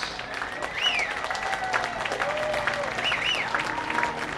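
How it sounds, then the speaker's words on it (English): A ballpark crowd at an Arizona State baseball ceremony gives sustained, steady applause, with whistles and cheers rising above the clapping. "one more round of applause for Sun Devil legend"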